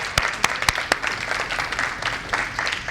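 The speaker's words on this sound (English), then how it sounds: "So let's give him another round of applause." An audience at a cycling group talk gives a round of applause, a few sharp close claps standing out at the start over a steady bed of crowd clapping.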